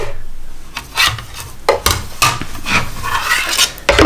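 A cutting machine slices through 160 gram card stock for a snowman greeting card, making repeated scraping, rasping passes with short bursts separated by brief pauses, close and fairly loud, with no talking.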